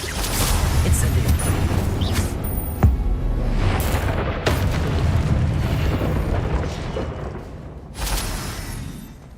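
Incendio fire spell cast in the Hogwarts Legacy video game, heard as loud booming, explosive bursts with crackling tails. Several sharp blasts stand out over a continuous rumble that fades toward the end.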